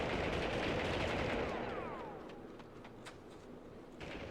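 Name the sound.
gunfire in a retro video game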